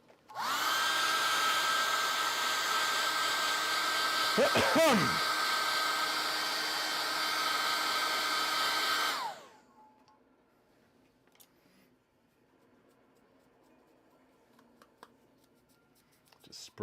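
A hair dryer blows on wet paint, roaring steadily and loudly for about nine seconds with a brief wavering midway, then cuts off to near silence with light scratching sounds.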